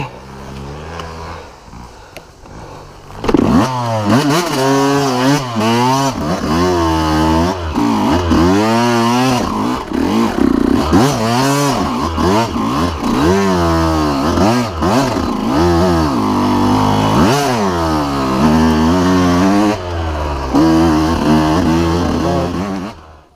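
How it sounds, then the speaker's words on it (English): An off-road dirt bike engine revs hard and repeatedly, rising and falling in loud, close bursts of throttle with a continuous buzzing drone between them. "Off-roading with Pete."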